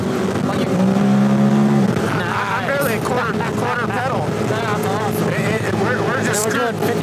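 A Honda Talon 1000X side-by-side engine hums steadily while cruising at about 50 mph on a canyon wilderness trail. The drone is loud and constant, with wind rush, and people talk over it.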